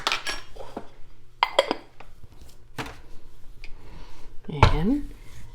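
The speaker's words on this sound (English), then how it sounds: "Stir that in a little." Salt is stirred into cookie dough in a bowl with a utensil, giving a few scattered clinks and scrapes against the bowl while a voice talks over them.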